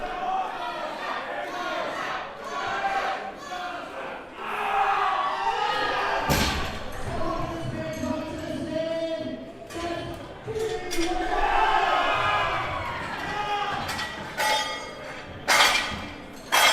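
A crowd at a USAPL powerlifting meet cheers and shouts during third attempts, with loud bursts of yelling and a few sharp thuds. Voices and an announcer-style talk run underneath at close range.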